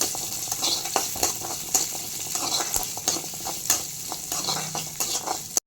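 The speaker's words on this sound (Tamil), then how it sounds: "வெங்காயம் நல்லா வதங்கிருச்சு." Small whole shallots sauté in a hot pan for Kerala ulli theeyal, giving a steady close sizzle broken by repeated scrapes and stirs of a spoon against the pan.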